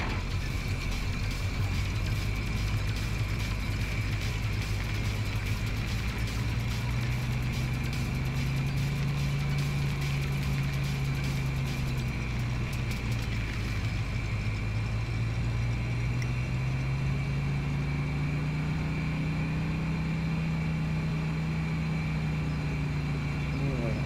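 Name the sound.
pickup truck 350 V8 engine idling, from Farming Simulator video game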